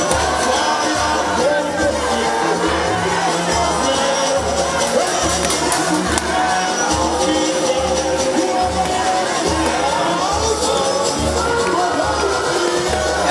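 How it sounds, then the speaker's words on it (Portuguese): Carnival umbrella-dance contest crowd at the RIOTUR 2017 event, a dense, continuous roar of supporters shouting and whooping together with a steady pounding drum beat underneath, loud and close throughout. "Olha a torcida aí, show de bola."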